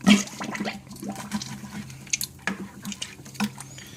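Fluid gurgles and rushes through the opened valve of a biodiesel unit, a steady close splashing flow with irregular bubbling bursts as air works out of the system, and no voices.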